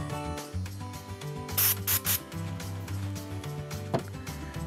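Spray is applied to a game cartridge in short, close hissing bursts around the middle, among soft rubbing and handling noises, with a low background hum.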